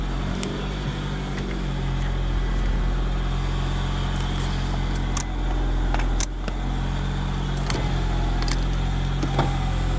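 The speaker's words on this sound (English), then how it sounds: "You see all the windows work." Car power windows run up and down inside an idling vehicle, motor whirs sounding in turn over a steady low engine hum, broken by several sharp clicks and thumps as each window stops.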